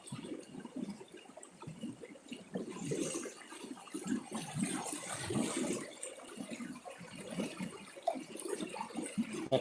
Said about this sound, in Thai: นี่แหละคือเรียกว่าน้ำแก่ง น้ำออกแก่งนะฮะ